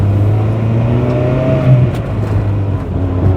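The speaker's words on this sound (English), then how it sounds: "let's test out these coilovers on the bumpy road at level 2" Honda Prelude on Maxpeedingrods coilovers rolling slowly over a bumpy road, a steady low engine and road drone inside the cabin with a soft thump near the middle, no voices.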